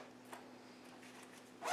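A zipper on a card binder pouch being drawn, faint scratchy zip ticks through most of the stretch, ending in a louder, brighter rasp as the zip closes.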